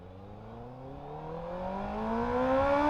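A motorcycle engine revs up during a ride, its pitch climbing smoothly and growing louder over a few seconds, with no talking.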